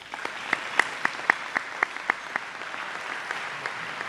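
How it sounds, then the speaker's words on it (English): Audience applause at a chamber of commerce annual meeting, a steady patter of clapping with several sharp, louder claps standing out across four seconds, no voices. "Round of applause for them."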